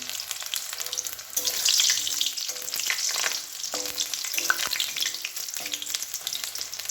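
Mushrooms fry in oil in a pan for chilli mushroom with a lively, crackling sizzle, close and moderately loud, swelling briefly and then settling into a steady spatter broken by small ticks.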